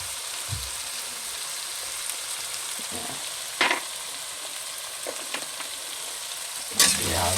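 Baby squid adobo hisses in a pan with a constant soft sizzle. Intermittent stirring knocks and utensil scrapes stand out, including a louder clatter near the end, and no one speaks.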